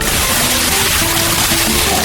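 Water from a bucket splashes onto a person, heard as a loud, continuous rushing slosh that fills the whole moment, dense and close with no speech.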